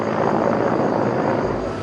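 A tourist helicopter flying between Aguascalientes and Ollantaytambo in Peru, its rotor and engine making a steady, loud, close drone with no speech over it.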